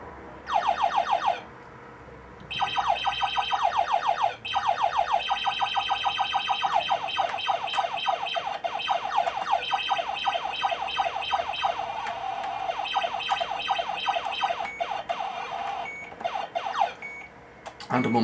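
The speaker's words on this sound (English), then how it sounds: "That annoying beeping noise is the alert noise." Alert beeping from a space shooter game running on an Acorn Electron computer as the ship's shields fail, fast repeating electronic tones in rapid, nearly continuous pulses with small gaps, up front and fairly loud.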